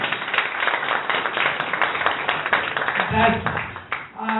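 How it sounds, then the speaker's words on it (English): An audience at a TEDx-style networking event applauds with dense, steady clapping that swells briefly and then thins out toward the end. "As a TEDx organizer, once more, big applause to Mr. Schiller."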